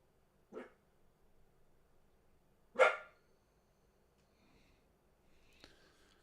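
A dog barks twice in an indoor room, single sharp barks a couple of seconds apart at moderate loudness, with a fainter yip near the end and quiet background in between.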